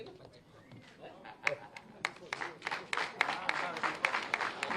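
A crowd at a chief minister's event in Aligarh breaks into scattered clapping that builds and thickens over a few seconds. Speech and crowd murmur run underneath.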